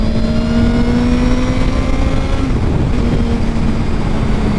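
A Honda Grom motorcycle engine drones loud and close with throttle held open, a steady buzzing tone that shifts slightly in pitch partway through as the ride continues.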